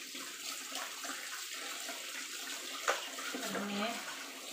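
Tap water runs steadily while meat for a bird soup is rinsed, a continuous moderate wash of flowing water with a brief splash near the end and faint talk underneath.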